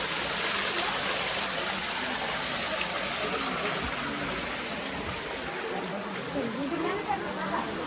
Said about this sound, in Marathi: इथून पाणी येत आहे आतून